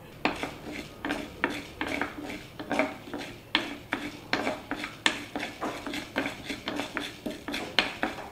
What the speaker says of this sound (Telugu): ముందుగా కొద్దిగా శనగపప్పు వేసి వేయించుకుందాం